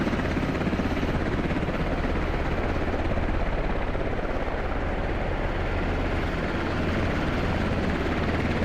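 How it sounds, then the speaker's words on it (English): Military helicopter in the game MARS: Scarlet Storm Rising, a loud continuous rotor thump and turbine roar close by, steady throughout with no talking. "They're gonna spin down their helicopters here."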